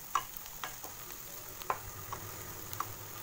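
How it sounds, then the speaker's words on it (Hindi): Sliced onions fry in oil until golden brown for a peas masala, giving a low, steady sizzle with a few soft stirring clicks spaced through it, fairly quiet and with no talking. "प्याज को हम जब तक गोल्डन ब्राउन नहीं हो जाता तब तक फ्राई कर लेंगे"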